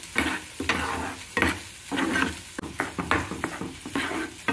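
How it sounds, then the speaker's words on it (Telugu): Dark organic jaggery and water boil into a thick syrup in a pot while a spoon stirs it, giving soft bubbling and sizzling with scraping strokes and light clinks against the pan. "ఇలా పాకం వచ్చే వరకు మరిగించుకుందాం."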